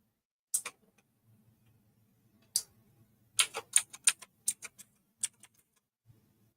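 Fingers type on a computer keyboard in a few quick, close bursts of crisp clicks, separated by short quiet gaps, with no talking.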